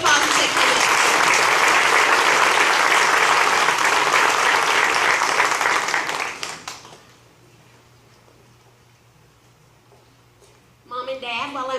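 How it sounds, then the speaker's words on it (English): Loud, dense applause from an audience greeting award winners at an electric cooperative event lasts about six seconds, fades into near silence, and a voice starts talking at the very end. "Let's give them a big round of applause as they come up."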